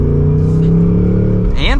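A 2024 Ford Mustang GT Premium with a manual gearbox revs as it is driven, a loud steady engine drone that holds its pitch and then sweeps upward sharply at the end, while someone talks over it.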